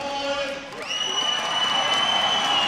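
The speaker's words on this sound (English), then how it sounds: "Let's give you some crowd noise here so you can hear how truly loud it is" A packed arena crowd at a men's college basketball national championship game roars in a loud, sustained wash of cheering and whoops that swells after a brief dip and holds steady throughout.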